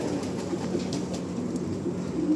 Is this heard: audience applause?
no